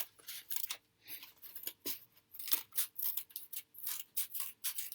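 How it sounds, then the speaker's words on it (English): Scissors snip steadily through a paper board, a rapid series of crisp, close cutting strokes with short pauses between them and no talk. "I'm going to go ahead and cut out our board with the diagram."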